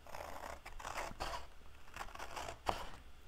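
Scissors cut through paper or card for a rustic Christmas craft, giving a series of crisp snips and crinkling rustles at an irregular pace, close and fairly quiet, with one sharper snap near the end.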